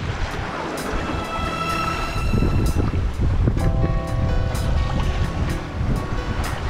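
Wind rushes and waves slosh continuously around a small skeleton-built sailboat with no motor, a dense steady roar with occasional higher splashes and creaks, no voices.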